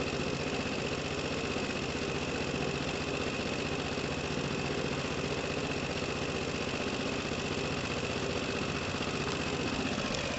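A Piaggio Typhoon scooter with a swapped engine and carburettor runs steadily, a constant buzzing idle with a faint knock, alone and close.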